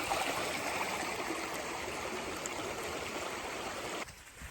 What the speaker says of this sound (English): Just creek running all night.